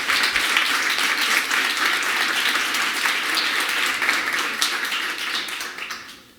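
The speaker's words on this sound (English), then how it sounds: "I would like to give you a big round of applause for all of you" An audience at a kids' competition on an outdoor playground stage claps in a loud, bright burst of applause that carries steadily before fading out at the end.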